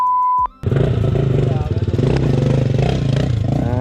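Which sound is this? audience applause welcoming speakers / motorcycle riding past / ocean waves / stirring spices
motorcycle riding past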